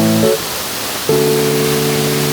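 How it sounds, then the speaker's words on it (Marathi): A waterfall near Panshet produces a loud, unbroken rushing roar close by, overlaid by steady humming tones that break off briefly and then resume. "वॉटरफॉलचा भरपूर पाण्याचा आवाज आहे मागे"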